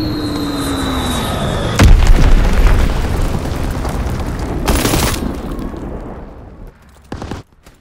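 Bombing run explosions in Call of Duty WW2 unleash a continuous heavy roar, with deep booms striking at intervals before the rumble slowly fades.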